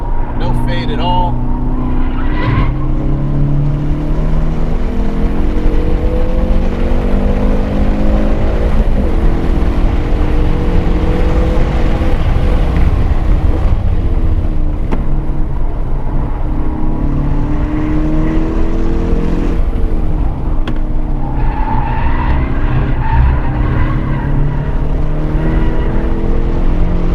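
A Hyundai Veloster N or Ford Focus RS driven hard around a race track, its engine a steady loud roar that rises and falls through the gears for the whole lap, with people talking over it.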